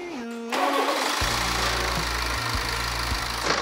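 A BMW G30 520d diesel, left four months unable to start with a reportedly broken timing chain and poor oil, cranks briefly, then catches and settles into a loud, steady close-up idle.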